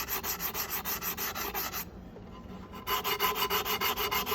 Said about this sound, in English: I'm just going to give it a light sand, just so I can get rid of all the pen marks